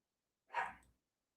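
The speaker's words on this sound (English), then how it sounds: "stop all that barking" A single short dog bark, fairly faint, standing alone against silence.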